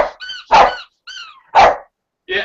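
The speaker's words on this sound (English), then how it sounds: "my dog is trying to get me to play with him" A pet dog barks and yips in several short, loud bursts with pauses between them, close up and playful, with no other sound around.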